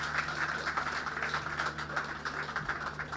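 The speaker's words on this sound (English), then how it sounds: "Can we have a round of applause," Audience applause at the Magical Kenya Travel Expo 2011, a muffled steady wash of clapping heard at a distance over a low hum.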